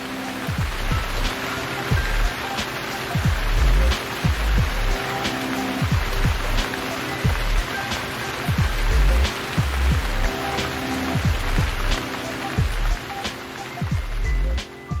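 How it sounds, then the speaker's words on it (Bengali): Monsoon rain falling in rural Bangladesh, a steady pattering wash with repeated low thuds and drips throughout, fairly loud and close with no voices. "আর পরক্ষণেই বৃষ্টির রিমঝিম ছন্দ দোলা জাগায় প্রকৃতির বুকে"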